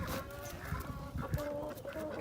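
Backyard chickens near a broody hen cluck softly and repeatedly close by, with short clucks scattered over a low outdoor background.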